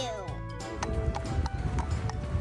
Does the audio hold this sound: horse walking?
yes